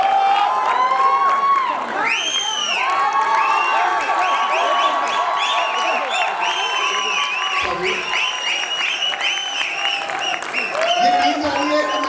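Audience at an Urdu stage play erupts in applause mixed with shrill whoops, whistles and excited shouting, loud and continuous, with a few voices rising above the crowd.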